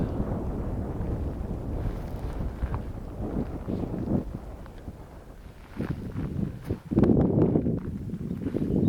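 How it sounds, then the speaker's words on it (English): Wind gusting at a lakeside mountain spot near Summit Lake, a low rumbling buffeting against the microphone that rises and falls in uneven surges, strongest near the end. "Although the wind didn't really blow that bad, it's starting to pick up now."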